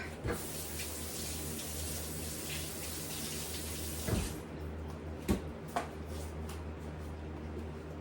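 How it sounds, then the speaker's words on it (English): Tap water runs steadily into a kitchen sink while hands are washed, a constant close gush broken by a few brief splashes and knocks. "Let me wash this off my hands real quick."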